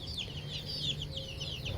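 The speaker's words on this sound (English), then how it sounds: "And over here, show you my birds." Broiler chickens cluck in a steady run of short, fairly close calls against a faint background hum, with no talking.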